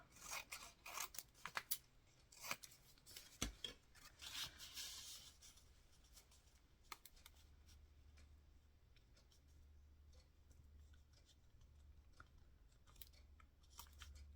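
Scissors snip in a quick cluster of sharp, close cuts, followed by scattered faint clicks and rustles over a low background hum.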